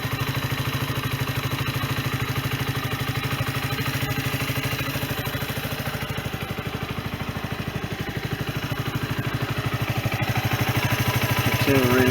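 A Sinnis Bomber 125 budget motorcycle engine runs on its first start after repair and service, idling steadily with a close, rhythmic mechanical clatter and a slight rise in revs near the end.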